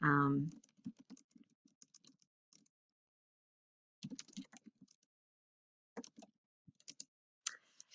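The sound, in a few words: typing a sentence on a computer keyboard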